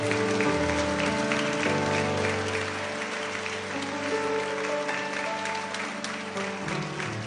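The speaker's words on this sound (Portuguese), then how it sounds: "Aplauda Jesus." Applause from a church congregation during a sermon, a steady, full wash of clapping that rises and falls across several seconds, mixed with some voices and tonal sound underneath.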